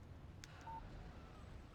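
In the game Alan Wake, a phone chimes briefly with a short electronic text message alert, a quick tone over a low, rumbling ambient background.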